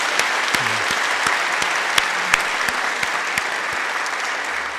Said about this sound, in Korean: 우리 하나님의 은혜에 감사 박수를 올려드리기 원합니다